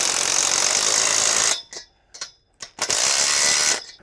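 Ratchet tightening a cross connector on a caterpillar tunnel purlin, fast close-up clicking in continuous runs broken by a few short pauses and single clicks.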